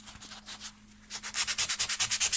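Fine sandpaper is rubbed over the teeth of a STIHL HS56 hedge trimmer blade in close, rhythmic strokes. It starts with a few softer passes, pauses briefly, then moves into a faster, louder run of even scratchy strokes.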